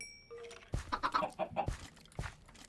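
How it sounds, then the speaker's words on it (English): Chickens cluck in a farm pen in the Minecraft 1.18 video game, a quick run of clear clucks after a brief soft tone, then a lone louder cluck, with no talking. "That's our chicken farm."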